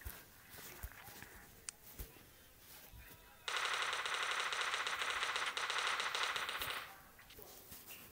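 A long rapid burst of gunfire rattles for about three seconds in an amateur picnic mini film, loud against quiet outdoor background with a few faint knocks before it.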